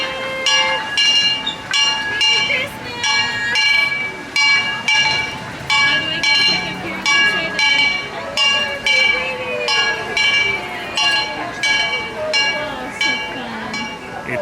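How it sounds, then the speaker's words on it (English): A Christmas-decorated train arrives at Disneyland with a rhythmic, ringing clatter of bright metallic chimes and clinks repeating over a rolling rumble, while voices talk nearby throughout. "Oh, the train's coming."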